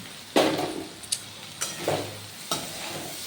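Carrots, potatoes and capsicum fry in a pan for vegetarian chow mein, with a steady loud sizzle broken by three or four scraping stir strokes of a utensil against the metal.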